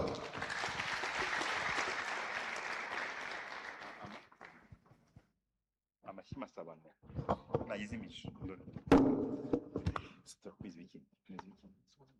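A ceremony audience applauds loudly for about four seconds, then fades; scattered claps, rustling and bursts of voices follow intermittently.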